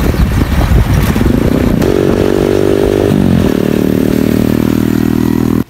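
Motorcycle engine revving loudly and close, with a rough idle that climbs in pitch and holds steady under a constant throttle before cutting off at the end.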